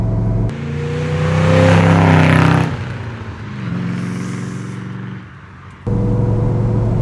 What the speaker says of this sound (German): ein tolles Auto muss einen tollen Sound haben